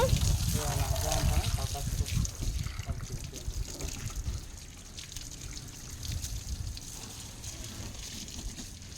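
Water runs and splashes steadily from a hose or tap while washing a motorbike, louder at first and then settling to a softer trickle, with voices talking over it.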